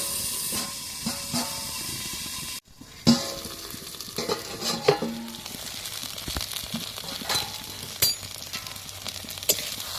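Okra pieces sauté in oil in a pan, a soft continuous sizzle with scattered clinks and scrapes of stirring, fairly quiet and close, with no talking.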